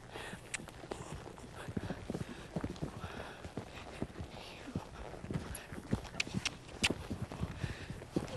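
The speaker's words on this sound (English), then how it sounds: "I'll land in canter and I'll see if he can keep cantering to the double." A green four-year-old horse canters and jumps a cross-country double, its hoofbeats thudding in an uneven rhythm close by, with soft breathing and rustling between strides.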